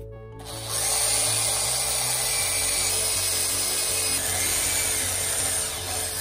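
A power drill bores small holes in the fiberglass of a Hallberg-Rassy 312 sailboat during a hull repair, starting abruptly and then whirring at a steady, loud, close pitch with grinding texture.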